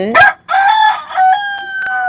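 A country chicken rooster kept on a rooftop crows loudly and close up, a short opening note followed by a long drawn-out call that tapers off.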